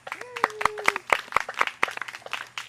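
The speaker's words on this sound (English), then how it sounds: "And let's give her a hand clap." A few people at a horse clinic clap in a brief, uneven round of hand claps, sharp and close, with a rising vocal sound near the start.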